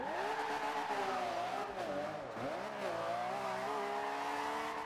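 A car engine revs steadily in Forza Horizon 2, a loud sustained drone whose pitch rises and dips as the throttle changes, with a brief tire squeal, continuous and close with no talking.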